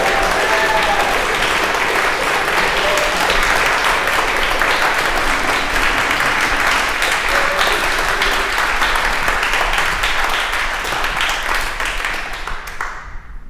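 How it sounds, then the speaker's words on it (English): Sustained, loud applause from a concert audience, dense steady clapping that holds for over ten seconds before tapering off at the end. "So I want to hear a round of applause for Mark."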